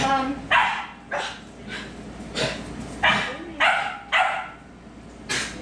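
A dog barks during a loose-leash training session, about eight sharp, evenly spaced barks repeating close by over a low background murmur.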